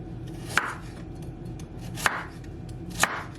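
A knife cuts through ingredients for pepper steak on a board, with three sharp, distinct chops spaced about a second or more apart and quiet in between.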